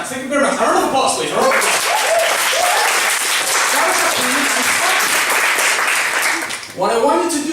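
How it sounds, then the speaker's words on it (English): Loud, sustained applause from a comedy showcase audience, dense clapping with some cheering that runs for several seconds before dropping off, then a voice briefly resumes. "A round of applause, please."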